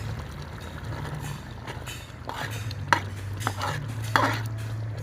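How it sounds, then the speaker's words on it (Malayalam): Green chicken simmering with curd, cashew paste and coriander leaves is stirred in a pot, giving a low bubbling bed with a few sharp spoon-against-metal clinks and scrapes in the second half. "ഇനി ഇത് നല്ലതുപോലെ മിക്സ് ചെയ്യാം."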